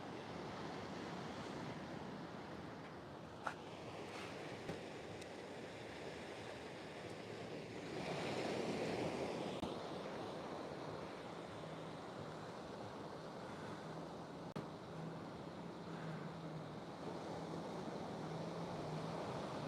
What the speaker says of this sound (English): And it's a beautiful sound of the sea.